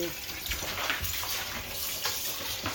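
Tap water runs steadily in a home kitchen, a broadband wash of flow with small splashes against the sink, close and moderately loud.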